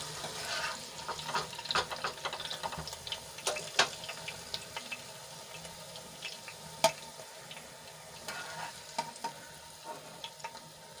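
Eggplant pieces fry in hot oil in a pan: a faint, steady sizzle with scattered stirring clicks and scrapes and a few sharper pops.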